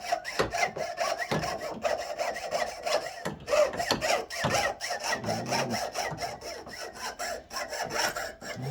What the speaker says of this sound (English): You can do really intricate sawing.